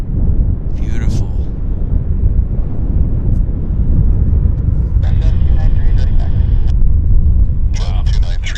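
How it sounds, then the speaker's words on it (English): A JAL Boeing 767 jet airliner at Vancouver International Airport gives a steady, heavy engine roar that fills the whole stretch, with wind buffeting the microphone and people talking over it at times. "JAL 767 heading to Narita Airport, Tokyo."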